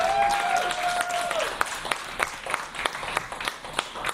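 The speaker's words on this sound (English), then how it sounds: "Give Cynthia another hand clap." Audience at a church gathering claps, a full crowd applause that gradually thins into distinct, scattered hand claps toward the end, with a faint sustained tone early on.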